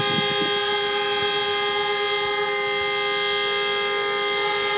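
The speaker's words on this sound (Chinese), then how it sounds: "并拍摄下了在这个区域白天时段的鸣笛声" Vehicle horns sound nonstop in the daytime near a waste compression station in Xiamen, where large trucks queue, as one loud, sustained blaring tone with no pauses.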